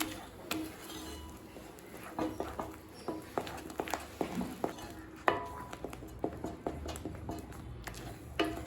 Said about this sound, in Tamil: இப்போ கொஞ்சமாக நெய் சேர்த்துக்கலாங்க. ஒரு 5 நிமிஷம் வரைக்கும் நல்லா கிளறிக்கலாம்.